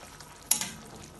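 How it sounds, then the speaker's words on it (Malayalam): Kohlrabi kurma being stirred in a pan gives a single quick scrape with a soft sizzle, faint and brief against a quiet kitchen background. "ഇതിനൊന്ന് ഇളക്കി കൊടുക്കാം."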